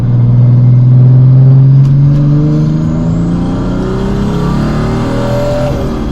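The turbo diesel engine of a 1995 Mercedes-Benz E300 revs and winds up close by after a downshift into second, its pitch rising and falling as it pulls, with no voices.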